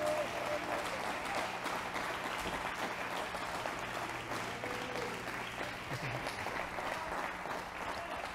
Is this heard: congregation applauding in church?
yes